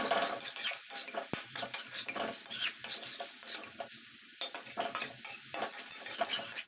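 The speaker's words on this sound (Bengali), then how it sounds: "নুনটা দেওয়ার পরে আরও কিছুক্ষণ ধরে আমি মশলাটাকে নাড়াচাড়া করব ফুলকপি এবং আলুর" Cauliflower and potato with salted spice masala are stirred in a pan. Busy, close metal-spoon scraping and clatter sound in continuous bursts over a light sizzle.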